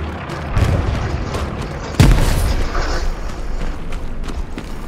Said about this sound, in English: cause tossing a grenade in that bush